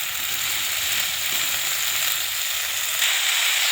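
Potatoes and onions fry in a pan with a dense, steady sizzle that holds close and even throughout, with faint stirring under it and no voices.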